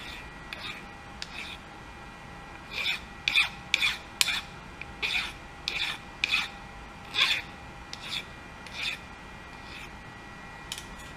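A file rasps a burr off a freshly machined metal workpiece in a workshop, about a dozen short scraping strokes in an uneven rhythm, close and fairly loud over a steady background hum.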